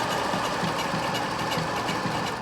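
Sewing machine stitching fabric for elastic-waist boyshorts, a fast steady mechanical whir and rapid needle rattle running continuously at close range.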